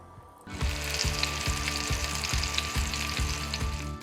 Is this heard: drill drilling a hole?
no